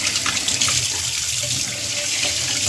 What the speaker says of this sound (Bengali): এবার আমি ভালো করে ধুয়ে নিচ্ছি।